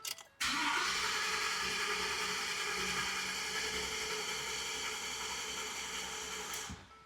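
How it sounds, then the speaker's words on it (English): A 2014 Ford F-150 with the Coyote 5.0L V8 cranks over steadily with the gas pedal held to the floor. The starter whirs in a loud, even cadence for about six seconds, then cuts off. No one talks over it. "you can hold the gas pedal all the way down and crank it and you can get a compression"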